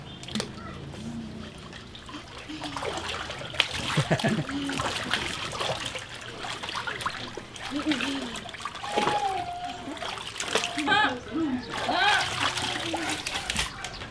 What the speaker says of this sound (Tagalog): maligo na Sax sa kanyang pool